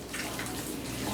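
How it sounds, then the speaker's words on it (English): Water poured from a container into a stuffed cabbage dish being prepared for an air fryer, a steady splashing stream lasting about a second, close and moderately loud with no talk. "I'm gonna put the rest of this water, and that should be good."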